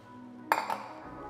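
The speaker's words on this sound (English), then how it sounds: "3 eggs I'm going to add into the blender." Eggs cracked against a glass blender jar for a gluten-free Brazilian baked tamale batter: two sharp, ringing clinks in quick succession, close and clear in a quiet kitchen.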